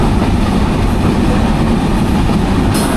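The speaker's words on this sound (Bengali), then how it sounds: "ট্রেনের গতি কিন্তু বেশ ভালো রকমই উঠে গেছে" Rupsha Express passenger train running at over 70 km/h as it climbs toward the Hardinge Bridge, giving a steady, loud low rumble of wheels and carriages that continues unbroken throughout with no voices.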